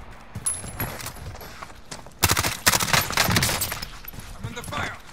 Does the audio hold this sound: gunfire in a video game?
yes